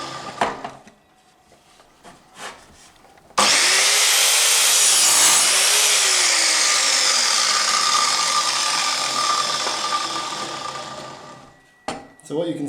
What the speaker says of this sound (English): angle my chop saw over to 45 degrees and take a mitre